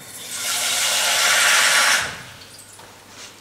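A cooking pot filling with cold water from a tap, a steady hissing rush that swells for about two seconds, then cuts off, leaving quiet room tone and a brief clunk.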